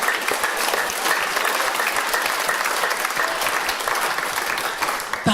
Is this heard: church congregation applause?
yes